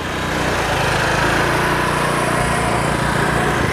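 A standard motorcycle engine runs loud and close, its raspy buzzing idle holding steady without pause for the whole few seconds.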